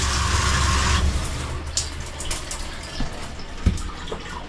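Hot water running from a tap inside an off-grid caravan, a steady gush for about a second before fading to a quieter trickle and faint clatter.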